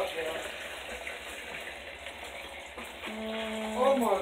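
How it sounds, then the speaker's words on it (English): Water drains out of a portable washing machine in a steady, gushing rush at moderate level, with a voice briefly heard near the end. "And so you can see it lets all the water out."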